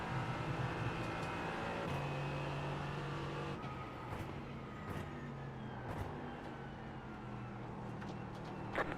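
Race cars in iRacing, including a Mercedes AMG GT4, roar past at Daytona with steady engine drone and rising and falling pitch as vehicles pass close by, loud and continuous.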